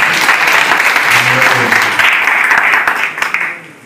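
Loud, dense applause from a church gathering fills the space steadily, with voices mixed in, before thinning out toward the end.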